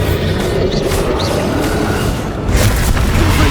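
A Bombarda spell in Hogwarts Legacy gives a loud, deep boom over constant combat rumble, followed by a second heavy blast that lifts the level near the end.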